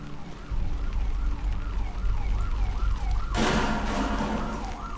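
An ambulance siren from a video game trailer wails in a smooth rising and falling cycle over a low rumbling bed, then a sudden loud broadband burst swamps it for the final stretch.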